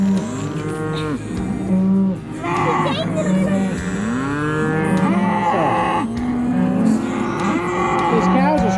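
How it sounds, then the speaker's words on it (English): A herd of cattle moos loudly and almost nonstop at feeding time, with many overlapping, drawn-out calls close by. "These cows are screaming so we can't hear,"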